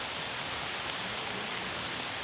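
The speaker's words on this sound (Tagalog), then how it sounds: "Ang lakas na po ng ulan." Heavy rain falls in a steady, even hiss that fills the background, soft and continuous without breaks, and no voices are heard.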